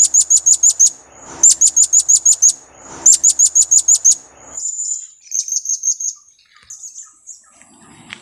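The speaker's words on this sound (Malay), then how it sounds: "So, itu panggilan jarak jauh ataupun lagau." A bird gives the second version of its long-distance call, loud and close: quick bursts of sharp, high chirps repeated in several rapid series, then softer, shorter phrases toward the end.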